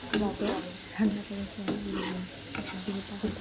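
Potato chips frying in hot oil, a steady sizzle broken by repeated stirring scrapes and clinks close by, with no talking.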